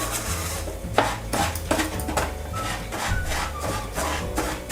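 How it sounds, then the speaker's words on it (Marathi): Lumps of cooked sugar are broken up in a pan on the stove just after the heat is switched off, giving close, repeated scraping crunches in an uneven rhythm, with no talking. "गॅसवरच मी साखर आहे ना त्याची फोडून घेते"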